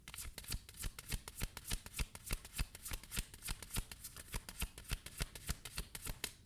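Tarot cards being shuffled alone in a steady, rapid run of crisp riffling flicks, close and moderately quiet, with no talking.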